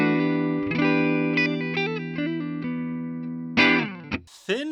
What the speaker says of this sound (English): The neck pickup has a really interesting tone to it.